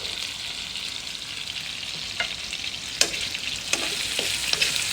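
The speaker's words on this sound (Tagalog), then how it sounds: "prito muna natin yung patatas" Potatoes frying in an old worn non-stick pan, a steady hissing sizzle with occasional clicks and scrapes of stirring, close and alone with no voices.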